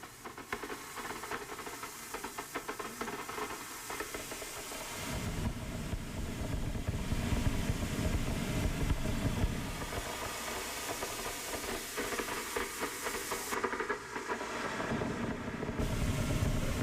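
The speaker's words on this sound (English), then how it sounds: "just vinyl distortion with a bunch of things in front of it" Steady crackling, hissing texture with dense noise throughout, shifting in tone partway through, like a gritty vinyl-style distortion bed with other sounds layered on top.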